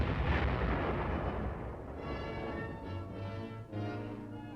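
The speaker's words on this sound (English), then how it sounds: "Here, however, can be seen its direct fire capability." An M52 105-millimeter self-propelled howitzer fires directly with a heavy, booming blast at the start. A rumbling decay follows, and a tonal engine or music-like drone continues underneath.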